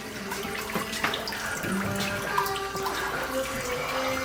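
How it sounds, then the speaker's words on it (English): Warm water runs steadily from a tap to rinse out a piece of glass during a glass restoration job, a continuous close splash with small clinks and knocks, no talk. "I'll just give it a little wash out with warmer water."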